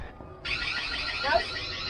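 An alarm sounds inside a barn, kicking in suddenly after a quiet moment and holding as a steady, fairly loud electronic tone with faint background noise.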